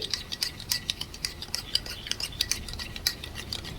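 Three tablespoons of fresh sour curd whisked in a bowl, heard as a quick, fairly faint series of light clicking and tapping strokes of a utensil against the bowl, keeping an uneven rhythm.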